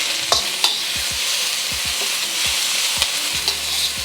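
Onions frying in a tablespoon of oil, giving a loud continuous sizzle close up, broken by dull knocks of stirring at irregular intervals, with no speech.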